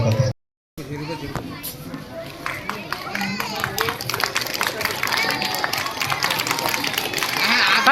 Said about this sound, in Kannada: ಜೋರಾದ ಚಪ್ಪಾಳೆ ಮಕ್ಕಳ